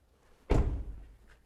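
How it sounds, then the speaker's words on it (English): A single solid thunk as the door of a Mazda6e car swings shut, close by and fairly soft, with a short low decay in otherwise quiet surroundings. "to lock the car, simply close the door and walk away"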